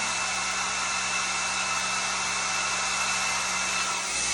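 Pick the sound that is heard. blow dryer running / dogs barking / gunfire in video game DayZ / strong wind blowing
blow dryer running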